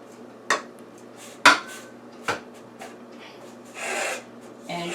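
Graham cracker crumbs being pressed and pushed around the bottom of a pan for a crust: a few scattered scraping and tapping sounds, soft rasps and knocks spaced apart over a quiet room background.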